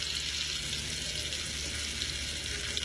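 Seared, flipped scallops fry in a hot pan with a loud, dense, continuous sizzle that stays even and close throughout, with no voices over it.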